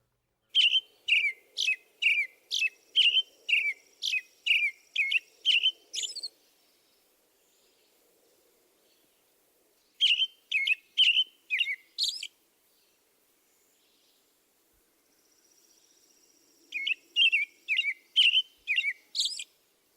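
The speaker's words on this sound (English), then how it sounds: "Here is the classic song of the American robin." Three bouts of American robin song, each a run of clear, repeated whistled phrases in a steady rhythm, separated by quiet pauses, fairly distant and alone with no talking.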